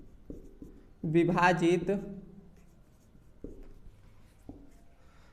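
Pen or chalk writing by hand during a maths lesson, faint scratchy strokes in short bursts, with someone speaking briefly over part of it.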